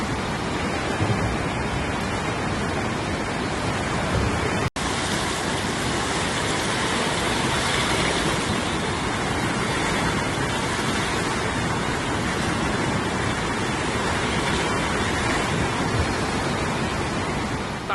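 Floodwater rushes without letup through a flooded street in Guangdong, China, where cars are submerged, making a loud, dense roar that continues for the whole stretch, with one brief dropout early on.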